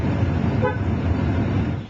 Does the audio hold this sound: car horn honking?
yes